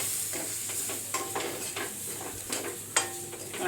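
Crab curry masala is sautéed in a hot pan, a soft continuous sizzle under repeated scraping stirs of a spoon against the metal, close up and steady with no speech.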